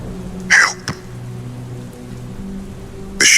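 Steady rain falls outside a room, a continuous hiss with two brief louder bursts near the start and end.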